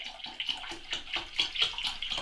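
Cold water being poured and measured out for pork and wild garlic sausage making, a close splashing trickle with irregular pulses over a couple of seconds and no talk.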